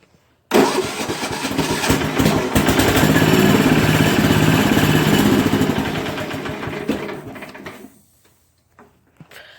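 Sears ST16 garden tractor engine cranks and catches, then runs loud and steady at close range for several seconds before shutting off, with no talking.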